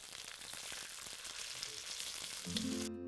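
Food frying in sesame oil with flour and ginger at a Hakka banquet: a continuous, fairly faint sizzle that is cut off near the end by a short tonal hum.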